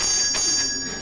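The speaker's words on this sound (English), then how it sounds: "4 bell rings, Matilda." A parrot rings a small bell, giving a bright sustained metallic ring with a couple of quick strikes that decay over a second.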